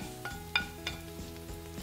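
Ginger and garlic frying with onions in a pan while making achari chicken, giving a soft steady sizzle with faint periodic stirring scrapes, quiet and close, with no voices.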